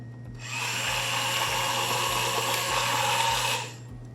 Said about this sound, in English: And then blend one more time.